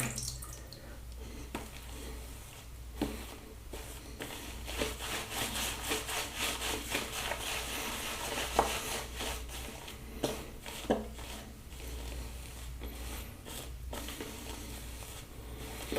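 A shaving brush swirls and scrubs shave cream lather on a face in a close, rhythmic, squelching rub that continues steadily with soft, bristly strokes.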